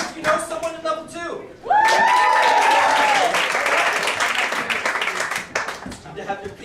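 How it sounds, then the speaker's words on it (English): An improv theater audience at a level 2 student showcase breaks into loud, dense applause with cheers. The clapping swells suddenly and then carries on steadily, and voices call out over it. "Clap if you know someone in level 2."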